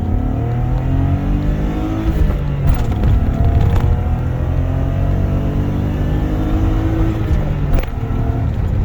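A BMW E34 Touring with an M50 engine pulling hard at full throttle from a standstill, heard from inside the cabin as a loud, steady rising drone with climbing engine harmonics and brief shift breaks.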